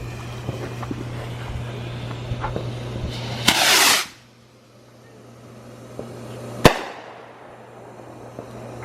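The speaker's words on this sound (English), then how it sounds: "Goes another sun ring rocket." A sun ring rocket firework bursts in a loud, hissing, crackling rush, then a single sharp bang follows a few seconds later, heard outdoors over a steady low hum.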